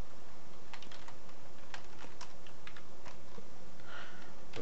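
Steady clatter of keys on a computer keyboard, a run of quick close taps of varying strength, with no talking.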